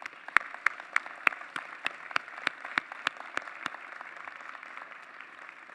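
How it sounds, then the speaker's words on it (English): Sparse, separate claps ring out from a graduation audience honouring mentors and supporters, a dozen or so distinct sharp hits over a steady room hiss, fading toward the end. "please join us in applauding those who helped you get here today"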